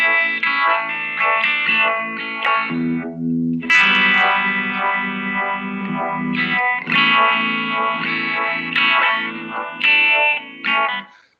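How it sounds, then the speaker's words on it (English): A guitar played through a Univibe effects pedal, its chewy, throbbing modulation swirling over a continuous run of distorted chords and notes, loud and close with no talking. "somebody created Univibe, which creates that sort of chewy sound"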